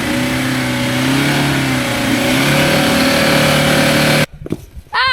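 A Toyota 1GD engine revs hard off-road on Kumho AT52 all-terrain tyres, a loud, steady drone that holds for about four seconds and then cuts off abruptly, followed by a brief vocal sound.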